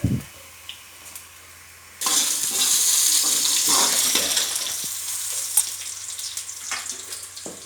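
Pumpkin sabzi frying in a pan: after a quiet start, a loud sizzle erupts and continues under scraping stirring strokes, close by, with no voices.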